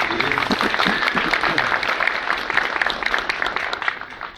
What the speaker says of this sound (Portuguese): Uma salva de palmas para a Beatriz.